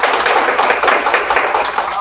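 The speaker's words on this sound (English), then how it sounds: "Let's give her a round of applause." A school board meeting audience applauds an outstanding career development coordinator, with dense, steady clapping at close range across the whole stretch.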